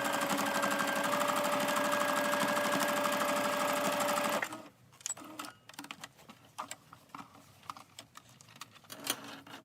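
A sewing machine stitches a cloth face mask made from old clothes, running in a fast steady whir for about four seconds and then stopping, followed by soft handling clicks and rustles.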